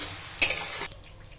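Spice paste frying in a pan for Bengali aloo dum, with a loud burst of sizzling and stirring that cuts off abruptly, leaving quiet kitchen background.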